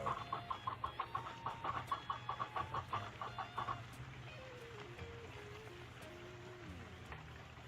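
Chickens cluck outdoors in a quick, steady run of calls for several seconds, moderately close, over soft patter like rain, then fainter bird calls continue.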